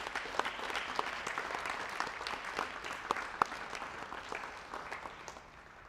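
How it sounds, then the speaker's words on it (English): Soccer players and families at a club commitment ceremony give parents a round of applause, a moderate room full of scattered clapping with a few sharp individual claps standing out, fading gently toward the end. "players, let's give your parents a huge round of applause for all their support"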